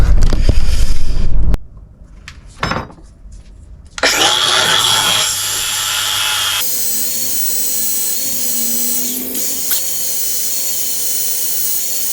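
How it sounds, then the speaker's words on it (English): An angle grinder cuts with a loud, steady high-pitched whine that holds for several seconds up close, after earlier bursts of tool noise and a brief near-silent gap. "have a go with an angle grinder his first time ever"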